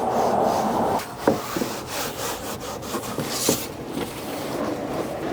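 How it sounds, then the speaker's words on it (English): A shop towel wiping excess trim restorer off black plastic car interior trim gives steady close rubbing and scuffing strokes, with a couple of brief sharper knocks partway through and no voices. "when I'm done, I'm gonna go over it again with a shop towel to get rid of any of the excess"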